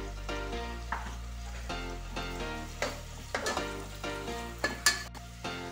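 Onions and chopped carrot fry in a pan, sizzling steadily while a utensil scrapes and stirs in repeated strokes, close and moderately loud, with a low hum underneath.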